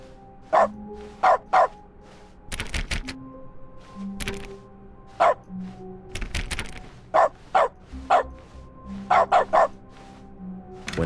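A dog barks in sharp single and paired yips from the video game The Stanley Parable, repeated at irregular intervals over quiet game ambience and occasional louder thumps.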